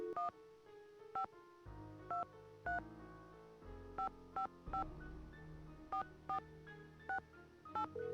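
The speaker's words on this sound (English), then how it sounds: "now let's try calling Bess" Phone keypad tones from a Nancy Drew mystery game sound in a series of short, evenly spaced beeps, clear and isolated over a quiet background hum.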